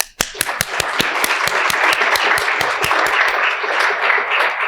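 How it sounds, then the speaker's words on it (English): Applause from a lecture audience honoring a foundation's support, dense and steady with sharp individual claps standing out near the front, sustained at full strength for the whole stretch. "I just really want to give them an applause"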